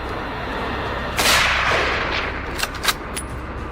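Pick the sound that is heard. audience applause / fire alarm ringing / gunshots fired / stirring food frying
gunshots fired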